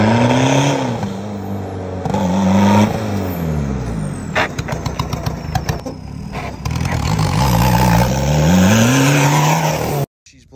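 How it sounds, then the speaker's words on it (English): A Mark 5 car revs hard during a burnout, its engine pitch sweeping up and down in loud, close bursts with rough crackling stretches, before the sound cuts out abruptly near the end as the engine dies. "I did a burnout in the car and it just randomly died"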